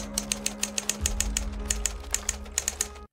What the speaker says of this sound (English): tell me if there isn't one thing in this world that's more distinct than a typewriter sound